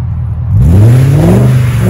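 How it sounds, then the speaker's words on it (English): Car with a limited slip differential spinning its tires in snow, one of them bald: after a brief quiet start the engine surges into a loud, rising rev with whirring wheelspin, continuous and close. "That left tire is bald, so even though it's not throwing as much snow as the right, it is in fact spinning"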